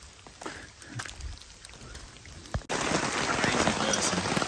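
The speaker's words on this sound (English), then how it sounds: "it's all wet, it's raining," Rain patters lightly at first, then suddenly swells into a dense, steady downpour hissing on a surface close by.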